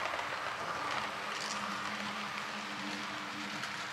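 A model train hauled by an SU46 locomotive runs along its track with a steady, continuous rumble and clatter, constant in level and without voices.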